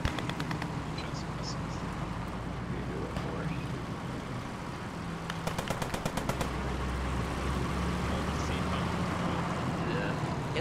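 Heavy .50 cal machine gun on an M3 halftrack firing in the WWII shooter Post Scriptum, a short rapid burst around the middle over steady vehicle engine rumble and battlefield noise, with speech in the background.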